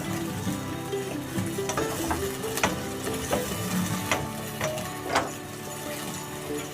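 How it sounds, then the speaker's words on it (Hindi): Masala is roasted with yogurt in a pan for white mutton karahi. A constant sizzle runs under sharp, irregular clicks and scrapes from a spoon against the pan, close and with no speech. "तो 2 से 3 मिनट तक दही के साथ मसाले को भूनेंगे।"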